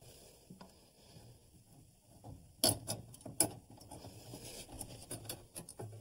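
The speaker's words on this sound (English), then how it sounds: "but a pipe cutter makes a much cleaner cut" A pipe cutter turning around a copper pipe, giving close metallic scraping and clicking bursts with a couple of sharper clicks midway, over a quiet room.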